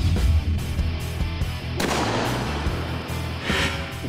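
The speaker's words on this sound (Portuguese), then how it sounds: "os cadetes são treinados exaustivamente em aulas de tiro" Police cadets fire weapons during shooting training at a range, a dense, continuous roar of gunfire with repeated sharp bursts and booming reports throughout.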